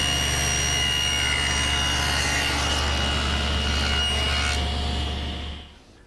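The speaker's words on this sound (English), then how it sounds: "cut the tenon on the other side of the leg" A saw cutting a wooden tenon cheek on a trestle table leg in a jig, a loud, steady, whining cut that runs continuously for about five seconds before winding down and fading out.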